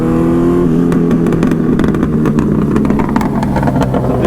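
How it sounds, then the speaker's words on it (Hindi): Kawasaki Ninja 1000 motorcycle fitted with an Arrow exhaust, revving loudly and close with a steady engine drone and repeated sharp crackling backfire pops scattered throughout. "इतनी तगड़ी बैक फायर मार रही है"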